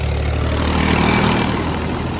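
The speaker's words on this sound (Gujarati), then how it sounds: "તમે જો ટ્રેક્ટર આવે ટ્રેક્ટર આવે" A tractor engine runs nearby with a loud, steady low rumble and droning hum that holds constant throughout, with no voices.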